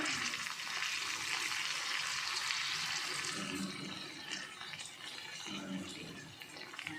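Half a glass of water hisses and bubbles as it is poured into a hot pan of red dry chicken, a broad sizzling wash that slowly settles.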